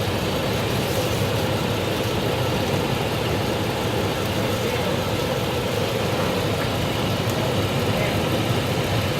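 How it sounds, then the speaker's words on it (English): A car engine idles steadily and evenly at close range during a transmission fluid check, a continuous low rumble with no revving, while someone talks over it. "We have the engine running."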